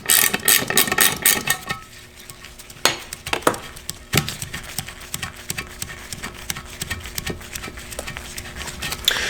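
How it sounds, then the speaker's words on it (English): A hand ratchet clicks rapidly as a wrench backs out drain bolts on restored SR20DET engine parts, close and loud, with bursts of ratcheting, metallic clinks and knocks, and brief pauses in a quiet workshop. "the first thing we're going to do is we're going to take off these two drain bolts"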